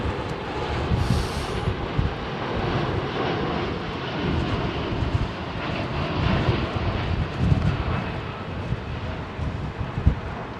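A Qatar Airways Airbus A380 departs runway 27R at Heathrow, its jet engines a broad, steady roar that swells slightly as it climbs out, loud and continuous with no talk.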